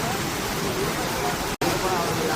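Steady broadband rush of water from the Courtallam waterfall, loud and continuous, with one brief dropout partway through.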